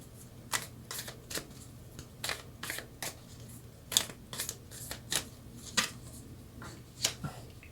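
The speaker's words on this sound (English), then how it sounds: "Now let's get some cards for your overall energy." Tarot cards shuffled by hand in a quiet room, a run of crisp riffling bursts and slaps repeating irregularly, close and alone with no talk.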